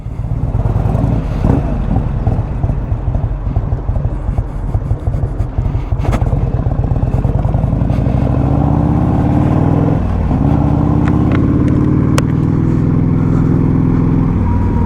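A 1984 Harley-Davidson FLT Tour Glide ridden on city streets in New York, its engine loud and close. A steady rumble gives way to a rising rev, with wind noise and traffic around it.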